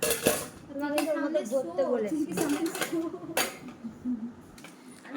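Newly bought metal cooking pots clank and clink as they are handled and set down, sharp separate knocks spread across a few seconds with a quiet background.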